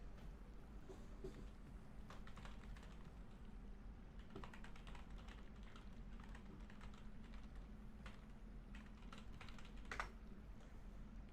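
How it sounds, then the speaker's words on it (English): Steady typing on a computer keyboard, a quiet run of soft clicking keystrokes heard close with no speech. "I'm just typing that out."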